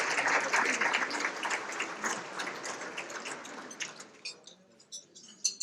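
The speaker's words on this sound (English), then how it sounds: "let's all give them a big round of applause for their generous work" Audience applause at a Salvation Army King County Red Kettle luncheon for the corporate sponsors, a dense burst of clapping that fades after about four seconds into a few scattered final claps.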